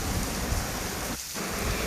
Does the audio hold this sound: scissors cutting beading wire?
no